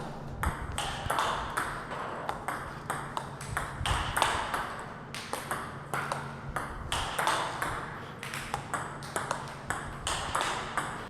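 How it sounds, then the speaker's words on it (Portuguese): Rapid series of table tennis loop drive strokes played with a Glayzer rubber, crisp close ball pings repeating in a steady rally rhythm, with no talking. "Agora teste de loop drive com a Gleiser."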